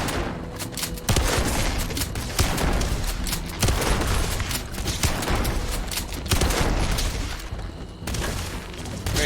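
Shotgun blasts in Starfield, heavy booming shots spaced roughly a second or two apart amid dense combat noise, loud and close.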